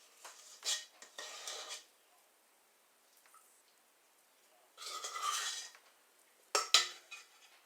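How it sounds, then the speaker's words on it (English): A spatula scrapes the sides of a bowl of oatmeal chocolate chip cookie dough made with banana, in a few separate close, wet scraping strokes with quiet gaps between them. "Set to scrape the side to get all of the goodness out of the bowl"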